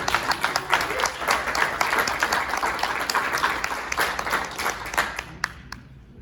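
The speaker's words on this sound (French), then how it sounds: "On peut applaudir." Attendees at a municipal council session in La Sarre applaud, a room of scattered hands with distinct individual claps audible, steady for about five seconds before quickly dying away.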